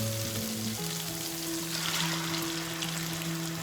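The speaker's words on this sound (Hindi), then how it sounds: "और चिकन को कलर चेंज होने तक थोड़ा फ्राई करेंगे इसमें।" Chicken fries in oil in a pan with a continuous, even sizzle and crackle heard up close, without any talking.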